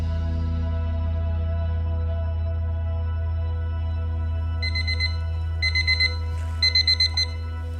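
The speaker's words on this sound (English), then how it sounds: "when the timer goes off" A kitchen timer alarm goes off during pancake cooking with repeated groups of rapid high beeps that begin partway through over a steady low hum of kitchen noise, growing into clusters of four, with no talking.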